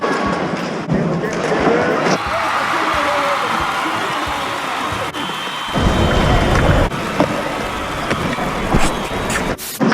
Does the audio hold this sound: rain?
yes